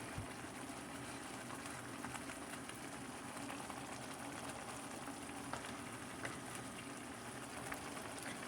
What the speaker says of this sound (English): And now the sauce is boiling.